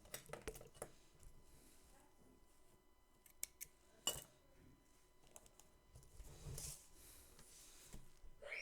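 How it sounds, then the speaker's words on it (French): Scissors cut embroidery thread in faint, scattered snips and small metallic clicks, with soft handling noises between them in a quiet room. "Et après, je coupe mon fil."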